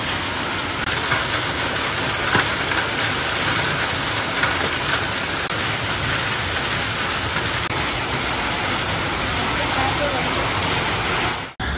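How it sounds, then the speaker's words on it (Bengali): Heavy rain and hail pound a tin shed roof in a dense, unbroken roar that stays loud and steady throughout before cutting off abruptly at the very end. "আর এই টিনের শেডে বৃষ্টির আওয়াজ আর শিলাবৃষ্টির আওয়াজ আরও যেন চতুর্গুণ হয়ে গেছে।"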